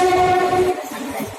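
A passenger train on the Cuttack to Sambalpur route pulls out, sounding a loud sustained horn for under a second before it gives way to a low rolling rumble of the moving cars. No voices are heard.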